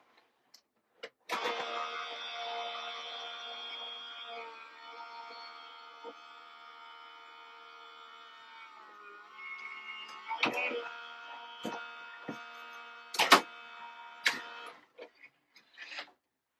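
A Sizzix Big Shot die-cutting machine is cranked by hand, with a long steady mechanical whir of rollers pressing a die through paper, then a string of clicks and rattles as the plates come out, close and fairly quiet.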